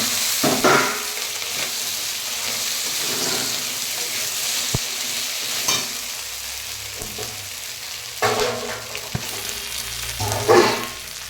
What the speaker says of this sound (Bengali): জিরে এক চামচ আলুগুলো ভেজে দেবো